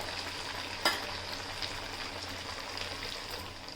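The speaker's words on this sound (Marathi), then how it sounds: "आपण इथे आता वडे थोडेफार तेलामध्ये पलटी करून घेऊयात" Sabudana vada frying in hot oil on a high flame, three at a time, with a steady close sizzle and bubbling throughout and one sharp splatter or clink early on.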